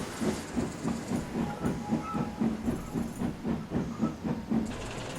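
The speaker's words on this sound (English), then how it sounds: "she and Chelsea set off, pushing and heaving the train out of the docks" A steam locomotive chuffs in a steady, rhythmic beat of puffs and hissing, with faint rail clatter underneath.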